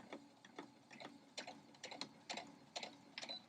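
A sewing machine runs a straight quarter-inch stitch along a Dresden plate quilt seam. Close, quiet ticking bursts come in a quick, uneven rhythm, with no voices.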